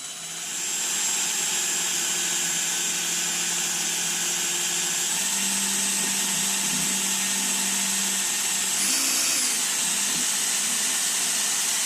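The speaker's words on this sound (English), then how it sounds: "I've got the fuel pump hooked up to a drill" A steady, continuous whine of a power drill driving the fuel pump of a Detroit 3-53T diesel engine, droning evenly throughout with a slight change in pitch near the end.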